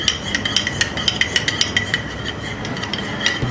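Egg and milk custard mixture stirred briskly in a bowl, a steady run of light metallic clinks and taps from the utensil against the dish, repeating at a quick, uneven rhythm with no talking.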